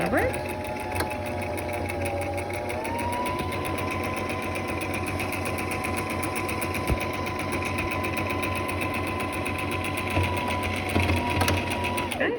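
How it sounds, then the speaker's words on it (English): A home sewing machine stitches elastic onto a fabric face mask, a steady close whirring hum with a fast rhythmic needle chatter that runs without a break. "I'm also going to top stitch the elastic over here"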